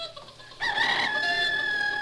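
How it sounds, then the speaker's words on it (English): A hen's call rises suddenly after a quiet start into a sustained, bright crowing-like cluck that holds steady and close, with no talking over it. "let's think of our feathered friend, the busy cluck-cluck bitty hen"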